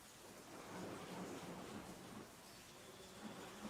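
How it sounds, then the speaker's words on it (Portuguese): Rain falling during a thunderstorm, a faint steady wash of drops with a low rumble of distant thunder, no voices. "Por causa dessa chuva aqui"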